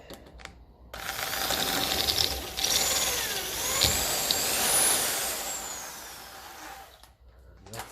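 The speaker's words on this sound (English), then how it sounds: "So I am better off just drilling, taking your time," An old clevis pin being drilled out on a 1954 Ferguson TEF 20 diesel tractor: a steady, loud grinding whine with a shifting pitch runs for about six seconds, then stops abruptly.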